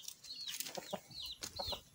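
Chickens in a backyard breeding pen, several soft clucks and short rising calls repeating at a steady pace, fairly close but quiet, with no talking.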